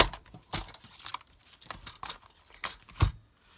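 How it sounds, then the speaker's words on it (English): A scrap strip of cardstock is cut in a crafting session, giving a few short, crisp slicing and crinkling sounds spaced irregularly, close and quiet with a sharp thump near the end. "I have some scrap strips of cardstock here, and I'm going to cut one to 4 3/4."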